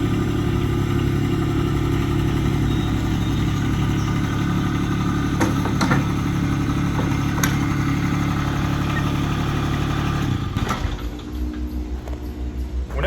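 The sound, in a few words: Toro Dingo compact utility loader engine running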